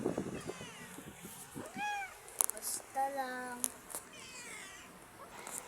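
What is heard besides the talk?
cats meowing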